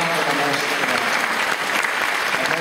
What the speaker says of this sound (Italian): si merita un applauso anche lui